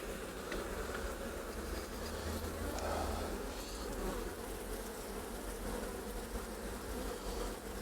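A dense swarm of honey bees hums steadily around an opened hive late in the beekeeping season, a close, continuous, even drone with no voices.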